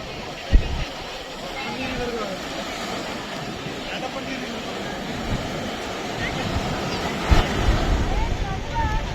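Ocean waves roll in at R K Beach in Visakhapatnam at night, a continuous loud surf wash with wind noise and a couple of sharp knocks, while a person talks over it.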